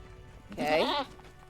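A goat mount in the online game LOTRO gives a single short, wavering bleat in the middle, fairly quiet against a low background hum.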